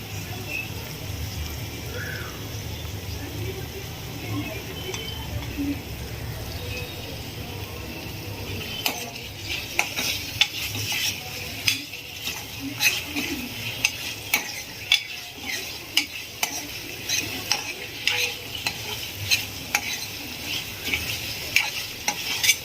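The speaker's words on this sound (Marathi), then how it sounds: "तर आता आपण याच्यामध्ये टाकूया अद्रक लसूणचं पेस्ट" Ginger-garlic paste frying with onion and roasted coconut masala in a pan, a steady close sizzle with repeated stirring clinks and scrapes that grow busier partway through.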